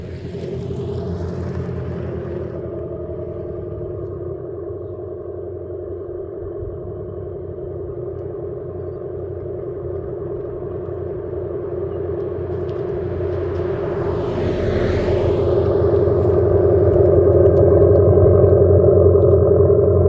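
A 2024 Abarth 500e Turismo electric car playing its simulated exhaust sound, a steady droning engine-like hum that swells louder toward the end, heard close and alone.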